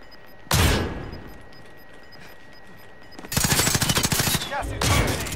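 Gunfire in the video game Call of Duty Warzone: a single sharp shot, then a quiet lull, then a fast rattling automatic burst followed by another close crack, loud and near against low background noise.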